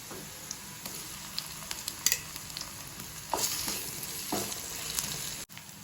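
Onions frying with a spoonful of ginger-garlic paste for a mushroom curry, a steady sizzle in the pan broken by occasional stirring scrapes and clinks, close up.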